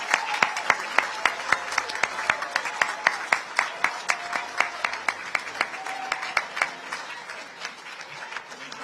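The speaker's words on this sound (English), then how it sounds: "let's give a round of applause to Donald J." Applause for Donald J. Trump at a Queens Village Republican Club Lincoln Dinner: a steady roomful of hand claps, individual sharp claps standing out in a loose rhythm, moderately loud and continuing throughout.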